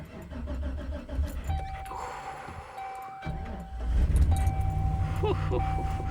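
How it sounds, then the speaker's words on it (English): A 2005 Chevrolet Silverado Z71 pickup is cold-started on a freezing day: the starter cranks and the engine catches, then settles into a steady, louder idle close by, with a brief jingle of keys. "Cold start. See if it starts up."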